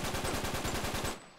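An enemy in Uncharted 3 fires a rapid automatic burst of about a dozen evenly spaced shots that cuts off abruptly after a second, loud and close with no talk.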